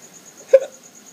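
A single short hiccup, fairly close and alone, over a quiet background with a faint steady high whine, recorded late at night on Gili Trawangan.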